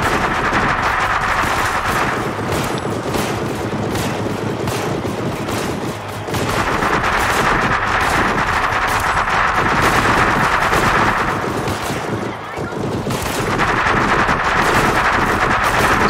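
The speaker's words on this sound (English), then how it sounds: "He's firing into the hole." Loud automatic weapon fire in a video game, heavy bursts that go on almost without pause, dense and close.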